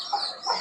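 Young chicks give two short, thin cheeping calls close by, separated by a brief gap, with a faint quiet background.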